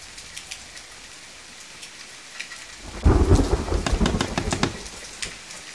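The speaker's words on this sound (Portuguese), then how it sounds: "tira esse som de chuva" Steady rain patters in The Forest survival game, then a loud rolling thunder crash breaks in halfway and rumbles on with heavy rain before slowly easing off.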